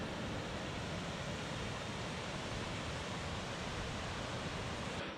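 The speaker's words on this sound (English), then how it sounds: "how often you could hear Lone Pine Creek as you were hiking up" Lone Pine Creek rushes along a mountain hiking trail, a steady broadband wash of flowing water that stays constant and fairly faint throughout, with no voices.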